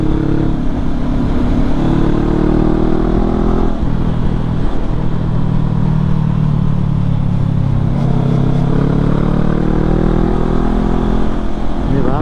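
A motorcycle engine hums steadily throughout on the Marikina-Infanta Highway, with a low continuous drone and shifting pitch as it cruises, wind noise mixed in.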